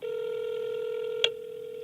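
A telephone on a call line gives a steady, loud tone that holds for over a second, broken by one sharp click partway through before the tone continues more quietly.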